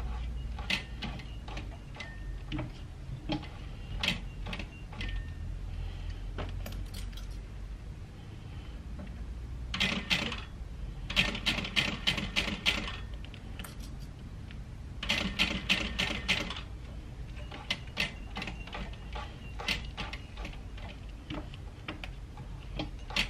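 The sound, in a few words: hand-cranked sewing machine stitching a handbag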